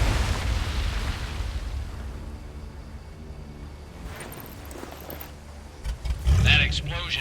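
A large explosion in the World War II shooter Medal of Honor: Above and Beyond, rumbling loudly near a lighthouse at first, then easing into a low, continuous wash before a sharp late burst of noise.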